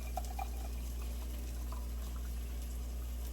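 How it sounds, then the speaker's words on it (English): Cold tea is poured over mashed berries in a glass, giving a faint, steady watery trickle beneath a constant low hum. "So I'm going to pour some tea over this."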